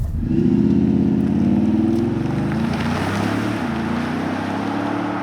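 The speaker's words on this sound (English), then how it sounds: "The SQ7 accelerates like a supercar and has the dynamics of a sports sedan, half its size and weight." A 2017 Audi SQ7, a heavy 2.3-tonne SUV, accelerates hard with a deep, loud engine roar that swells early, then settles into a sustained drone with rushing wind noise.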